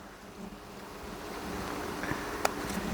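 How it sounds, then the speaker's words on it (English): Wind blows through an outdoor vegetable garden as a steady, low broadband rush and buffeting against the microphone, with a few faint knocks and rustles. "And the wind is winding out here."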